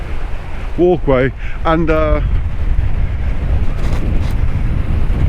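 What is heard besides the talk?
wind on microphone at seafront after storm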